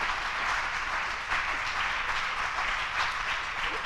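Congregation in a church service applauding steadily, a dense, even wash of many hands clapping at moderate distance that holds throughout without a break.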